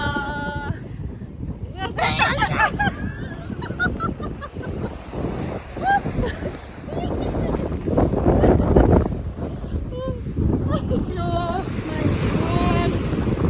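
Strong storm wind gusts at a lake, buffeting the microphone in a loud, continuous roar, with voices talking through the blustery noise.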